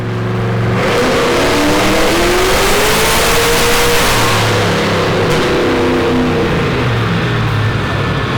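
A 1969 Camaro engine revs hard on a dyno, a loud sustained roar with rising and falling pitch across the whole stretch, close and continuous with no talk.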